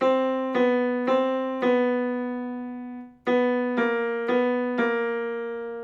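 Eight sustained keyboard notes struck one after another, each ringing and fading, climbing a semitone at a time with a brief gap midway, used for a vocal range test.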